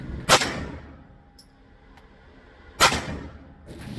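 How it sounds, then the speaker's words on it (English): A Colt 9mm Combat Commander pistol with a Wilson Combat magazine release drops its magazine twice. Each ejection is a sharp metallic clack, close and crisp, about two and a half seconds apart, with quiet between them. "So I want to check to see how it spits out the mags."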